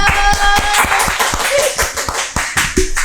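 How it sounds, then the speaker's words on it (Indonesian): Scattered hand claps from a small group at a campus choir gathering, with sharp individual claps in an uneven rhythm, close and fairly loud, mixed with faint chatter and laughter. "Tepuk tangan dong."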